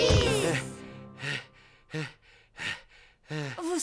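Cartoon pig character panting out of breath in a Peppa Pig episode dubbed in French, a gasping intake followed by several heavy, rhythmic breaths.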